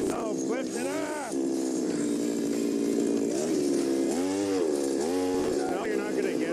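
A motorized ice auger grinds in rough ice with its blade stuck. The engine sounds loud and close, its pitch rising and falling as it revs and strains, continuous for several seconds.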